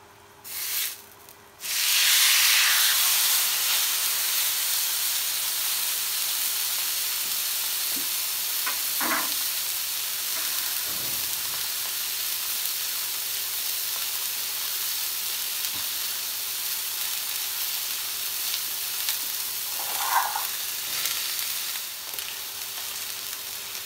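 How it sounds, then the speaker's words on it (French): A marinated pork ham slice sears in a hot pan, giving a continuous close hiss after an initial burst of sizzle as it goes in, with a few faint scrapes and clinks and no talk. "Je vais mettre en cuisson la rouelle."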